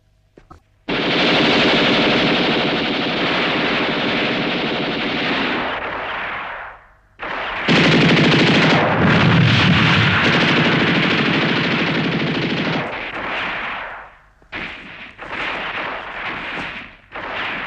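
Machine gun fire in a film scene of an armed clash, long loud continuous bursts with dense rapid rattling, broken by short pauses and a few shorter bursts toward the end.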